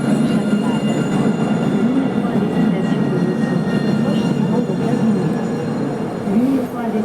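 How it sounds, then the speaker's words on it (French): A Montpellier line 3 tram pulls into Gambetta Chaptal station with a steady, loud rolling rumble and faint wheel squeals. The noise is continuous and close, with a brief swell near the end. "Donc il y a un tram qui arrive"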